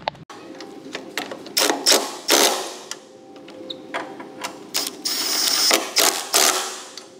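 A ratchet wrench tightening bolts and nuts back onto a mechanism, close and loud, in bursts of rapid clicking with brief pauses between runs, no talk.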